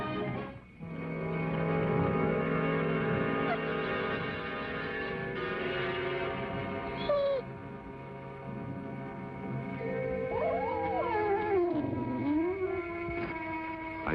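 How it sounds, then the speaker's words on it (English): Whimpering of an animal in pain within a 1950s TV western scene, a wavering whine rising and falling around the middle and end over a continuous musical score with bell-like tones. "I heard a sound, like an animal in pain, whimpering"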